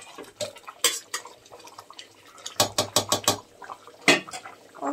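Rice cooking in a pot being stirred, with a quick run of clinking spoon strokes against the pot and bubbling liquid between them, close and moderately quiet.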